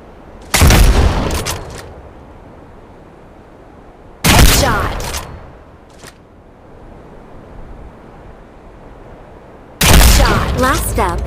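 Sniper rifle shots in the mobile shooter game Hyper Front, three loud separate blasts several seconds apart, each with a short rolling tail over a quiet background.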